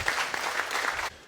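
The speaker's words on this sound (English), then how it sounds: "Let's give them a round of applause." A conference audience at an energy briefing on gas trading gives a short burst of applause for speakers coming on stage, a brief bright wash of clapping that cuts off abruptly.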